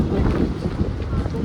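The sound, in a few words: strong wind blowing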